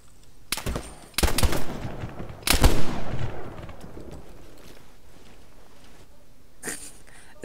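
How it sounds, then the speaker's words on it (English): Gunshots fired through a window in the video game Arma 3: several sharp, loud shots ring out separately, each followed by a short echoing tail, with quieter gaps between them. "I'm taking two shots through the window"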